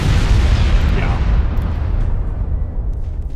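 A battleship fires its main guns in the naval video game Ultimate Admiral Dreadnoughts, producing a heavy deep boom that rumbles loudly and slowly fades over a few seconds.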